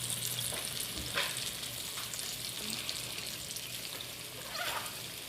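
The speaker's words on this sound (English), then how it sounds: "I'm going to drop a couple more in our frying pan" Panko-crusted pork sizzles and crackles steadily in a frying pan, a close, continuous frying hiss with small pops and no talking.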